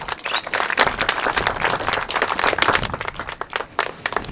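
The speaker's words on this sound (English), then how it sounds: "A round of applause, it's going to happen." An audience at an outdoor street dedication ceremony applauds, dense steady clapping that swells and fades over a few seconds, loud and close.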